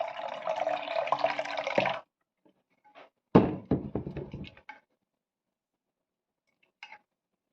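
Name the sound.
water being poured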